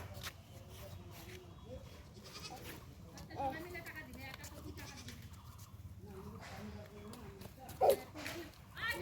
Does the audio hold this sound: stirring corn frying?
no